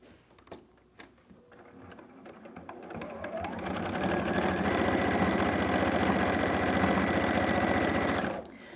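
A home sewing machine stitching scrap fabric, starting with a few clicks and slow turns, then ramping up into a fast, loud, steady whirring hum that holds for several seconds before stopping abruptly.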